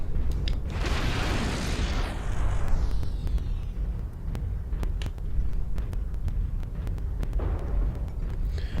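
Artillery strike in MechWarrior Online, a broad rumbling explosion that swells and rolls on, followed by lingering low throbbing and scattered sharp distant cracks.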